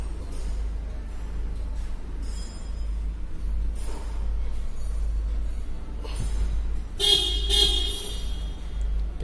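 Short horn blasts and chirps from a Whelen HHS3200 replica siren module sound intermittently over a low engine hum, with a louder electronic horn burst near the end.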